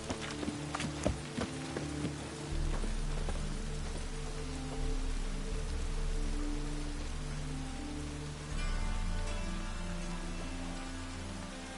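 Steady rain pours in The Witcher 3 while horse hooves clip-clop through it at a close, even pace, with a few sharp knocks early on and the downpour swelling partway through.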